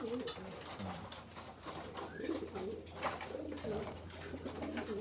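Healthy pigeons coo repeatedly at close range during feeding, low rolling calls overlapping in a soft continuous chorus with faint background noise and no speech.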